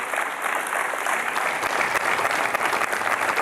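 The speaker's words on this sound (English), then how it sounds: "Magali, you really deserve a special applause because you made it happen." Audience applause in a hall at a Soyuz launch event, a dense steady patter of many hands clapping close and loud throughout.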